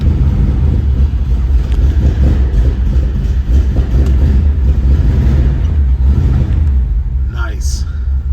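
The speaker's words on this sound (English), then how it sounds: "Let's go fire this one up." A 1951 Ford Victoria with a flathead V8 idles in a loud, steady, low rumble that holds throughout, with some wind buffeting the microphone.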